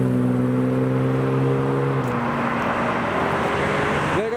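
A Ferrari 456 pulls away from a modified-car meet, its engine note holding steady harmonics and then dropping as it shifts, with more traffic and revving building near the end.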